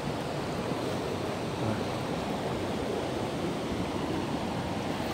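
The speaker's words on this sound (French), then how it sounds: "Il y a de l'eau qui sort du talus. Et puis qui rejoint le petit ruisseau." Water spills from an earthen bank into a small stream, making a continuous, broad rushing wash that stays steady and fairly loud, with some wind buffeting the microphone.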